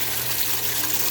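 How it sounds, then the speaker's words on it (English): Hot water pours steadily into a washing machine drum being cleaned with vinegar and baking soda, a constant, full rushing hiss heard close up with no talk. "You want to make sure that that water coming out is hot."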